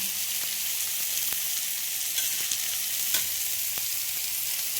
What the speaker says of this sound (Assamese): এই ভাজিখিনি মই এতিয়া এনেকৈ ভাজিলোঁ